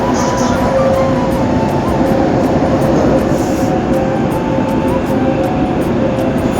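A Dubai Metro train runs between stations, a steady loud rolling rumble with a faint tonal whine and regular clicks, heard from inside the carriage with no talking.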